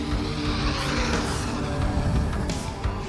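An RC10T radio-controlled truck's electric motor runs with a continuous close whirring drone and broadband rushing noise, steady throughout with a few brief surges.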